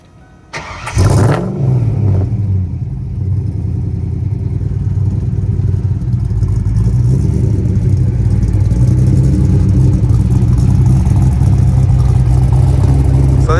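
A supercharged 1993 Ford Mustang Fox Body 5.0 V8 cranks and fires up, then settles into a loud, rumbling idle with the low growl swelling as it revs. The engine is close and there is no talk.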